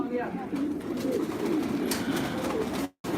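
Pigeons in a loft coo softly and repeatedly, low rolling calls overlapping one another, with someone talking over them throughout.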